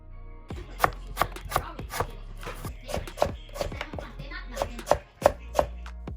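A knife chops winter melon into chunks and then slices on a cutting board, about a dozen crisp, separate thuds in an uneven rhythm, close and clear with nothing else heard.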